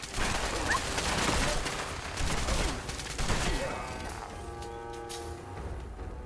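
Cryolator automatic weapon in Fallout 4 firing in a rapid, continuous burst of crackling shots, then cutting off into a quieter tail with a faint tonal hum.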